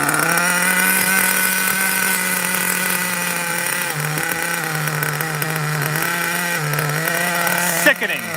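A nitro RC car engine runs continuously with a loud, close, high-pitched buzz, its revs dipping slightly now and then, before a sudden sharp blip near the end.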